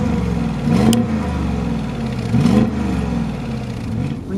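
A 2018 Bentley Bentayga twin-turbo engine in sport mode rumbles loud and close, with two brief surges of revving over a steady throaty drone.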